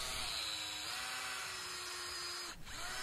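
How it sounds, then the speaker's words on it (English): A drill with a 7/16 inch bit bores into a maple tree at a slightly upward angle for a sap tap, giving a steady, faint whirring grind that holds for about three seconds with a brief dip near the end. "As you can see, I'm drilling at a slightly upward angle."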